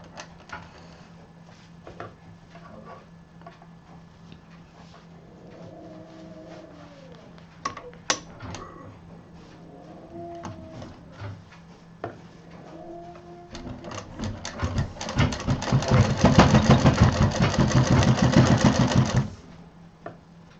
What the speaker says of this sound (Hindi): यहाँ पर डबल सिलाई चलेगी।